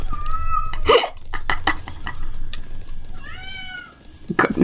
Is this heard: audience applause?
no